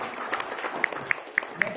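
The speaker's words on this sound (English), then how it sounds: "a round of applause for InnovoCare HealthSoft" Audience applause for a startup team at an on-stage pitch event: a brief burst of clapping from the crowd, with a few sharper individual claps standing out and some voices mixed in.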